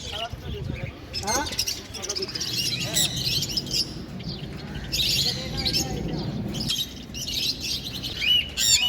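Pet pineapple conures and other caged birds at a bird market chirp in busy, overlapping bursts throughout. Voices and a market bustle carry underneath.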